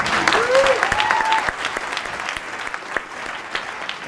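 An audience applauds at an event, a dense burst of clapping that starts loud and gradually thins to scattered claps, with a brief whistle-like tone early on.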